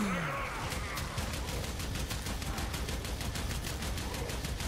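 The Kohm shotgun in Warframe fires without stopping, a fast, even stream of sharp blasts that holds at constant loudness throughout, with no pause between shots.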